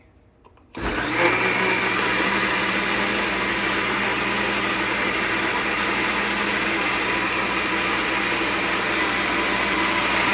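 An electric mixer whirs steadily while blending coconut cake batter in a home kitchen, switching on abruptly after a brief quiet moment and then running loud and continuous without pause.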